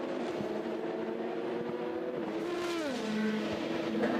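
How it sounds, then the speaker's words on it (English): A Toyota prototype race car at the 24 Hours of Le Mans whines past slower traffic, its engine note rising and then dropping as it goes by, over a steady background of other cars. "The Toyota has whistled by them all"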